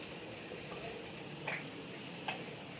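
A faint, steady hiss of green chillies dry-roasting on a hot griddle with a little oil, broken by a couple of soft clicks.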